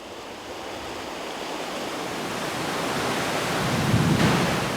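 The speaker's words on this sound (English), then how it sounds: "The Konlunga Rapids is the last hard whitewater stretch." Whitewater of the Konlunga Rapids on a Scandinavian canoe route roars as a dense, continuous broadband rush that swells slightly louder toward the end, with no voices over it.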